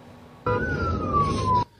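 An ambulance siren sounds along a city avenue in Guayaquil, a single loud wail that bursts in, sweeps slowly downward in pitch for about a second, then cuts off abruptly.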